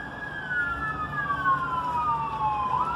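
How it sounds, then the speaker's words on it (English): An ambulance siren wails as the vehicle passes on the road, a continuous sweeping tone that slides down in pitch as it goes by, over steady traffic noise. "ambulance"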